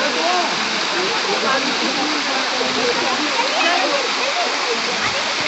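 Artificial waterfall at the Prem Mandir temple in Vrindavan, a steady broadband rush of falling water that holds evenly and continuously throughout, fairly loud and close, with faint voices of people around.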